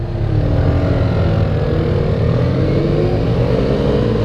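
A motorcycle engine pulls away steadily under load, a loud, continuous low rumble that holds close and even throughout with no talking.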